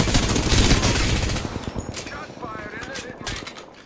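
Kraber sniper rifle fire in Apex Legends, heard as a cluster of sharp shots and rapid cracks early on that fade into scattered quieter pops, mixed with game voices.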